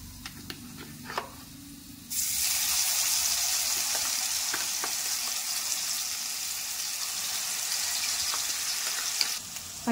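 Masala paste with green chillies for stuffed brinjal curry hits a hot pan and sizzles loudly, a sudden burst of frying that settles into a continuous crackling hiss with small pops and stirring scrapes.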